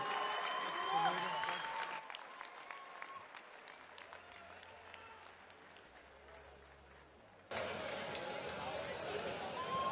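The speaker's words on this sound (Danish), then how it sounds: "Giv et kæmpe bifald" An audience at a boxing exhibition bursts into loud, sustained applause, with crowd noise and chatter mixed in, fading briefly before surging again.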